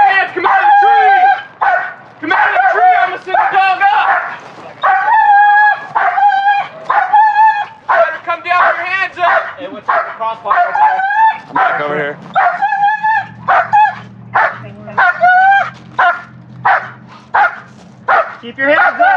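A police dog barks in loud, rapid bursts during an arrest where a suspect is up a tree, with whimpers and yips mixed in, while officers shout commands over and between the barks.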